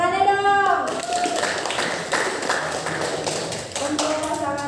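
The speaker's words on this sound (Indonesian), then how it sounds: "Tepuk tangannya dong" A school audience claps at a student council election event, a scattered patter of hands that runs for several seconds, partly overlapping a voice at the start.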